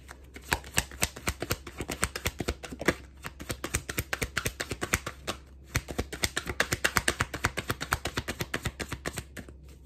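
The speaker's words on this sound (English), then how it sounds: "no matter how many times I shuffle" Tarot cards being shuffled by hand, a dense run of crisp riffling clicks and taps repeated in bursts for about ten seconds, close and fairly loud, with no talking over them.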